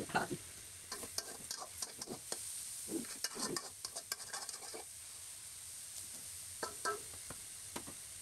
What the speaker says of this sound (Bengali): এইখানে হচ্ছে পাতাকপি ভাজি হইতেছে